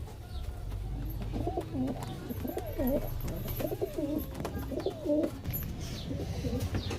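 Kaldum pigeons coo close by in a loft, a run of soft, throaty, repeated calls, with faint background hum and no talking.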